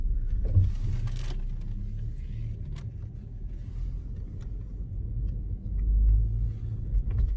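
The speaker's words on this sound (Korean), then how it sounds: "시동 걸린 겁니다. 가고 있는 겁니다. 굉장히 조용하네요." White Genesis car started and driven in a parking garage, a low, quiet engine rumble steady throughout with faint mechanical clicks and a few brief bumps.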